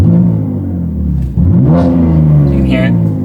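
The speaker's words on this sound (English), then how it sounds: "Mode 1, the exhaust is open." A BMW G80 M3 with a Milltek exhaust, valves open, idles with a deep, loud burble up close, then blips into a sharp rev near the middle before settling back to a steady throbbing idle.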